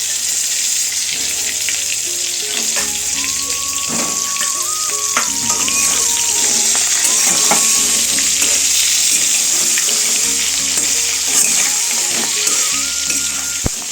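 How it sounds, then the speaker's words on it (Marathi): Stuffed brinjals, coated with a little turmeric, sizzle in hot oil in a kadai, giving a steady crackling hiss with a few scattered clinks and knocks. "आता कढईमध्ये तेल तापायला ठेवले, थोडीशी हळद आणि सर्व भरली वांगे आपल्याला आता यामध्ये टाकायचे आहेत"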